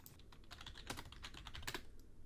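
Rapid typing on a computer keyboard while entering a name, a quick close run of light plastic key clicks with a few heavier strokes, with no talking.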